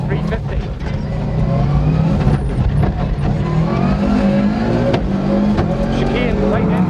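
A rally car sweeps through the early part of a stage at the 2001 Limerick Rallysprint, its engine loud and close, revving and shifting steadily while a commentator talks over it.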